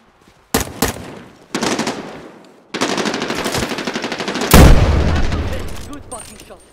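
Rapid automatic gunfire and sharp single shots in Medal of Honor Warfighter sniper multiplayer, loud close bursts building into a sustained barrage with a heavy boom near the end, with a voice talking over it.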